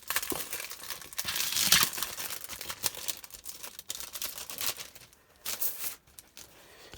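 A Bo Bunny Whiteout paper pad is pulled from its plastic packaging, giving close, continuous crinkling and rustling with a few sharper crackles and a quieter stretch near the end.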